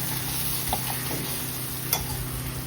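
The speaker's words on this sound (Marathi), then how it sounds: "छान असे टॅमॅटो आपल्याला स्मॅश करून घ्यायचे चमच्याच्या उलट्या साईडनी" Tomatoes mashed with the back of a spoon in a pan of onion-tomato gravy for dahi bhindi, with a few soft taps and scrapes over a steady, low sizzle.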